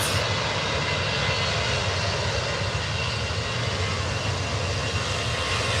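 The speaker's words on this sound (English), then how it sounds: "this lovely Emirates A380 as it slowly makes its way" Continuous loud jet engine roar of an Emirates Airbus A380 taxiing slowly at Manchester Airport, steady and close, with a broad rumbling hiss and no voices.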